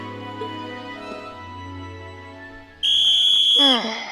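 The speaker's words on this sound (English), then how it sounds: "Blow the whistle!" In the video game Trails of Cold Steel, a loud, shrill whistle blast sounds for about a second and ends in a falling warble, after game music and voiced dialogue.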